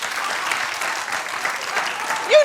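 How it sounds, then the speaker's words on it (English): A talk show studio audience claps in a dense, even burst of applause filling the whole moment, with a voice cutting in briefly at the very end. "People clapping almost as old as Chevy."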